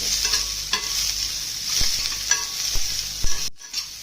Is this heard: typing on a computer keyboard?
no